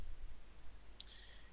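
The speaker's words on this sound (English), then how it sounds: "So let's start by clicking this button here" A single crisp computer mouse click on a button, brief and close, set against quiet low room hum.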